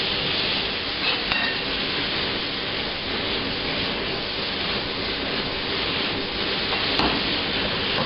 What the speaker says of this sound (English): Got to stir vigorously at this point because you don't want it to stick or burn.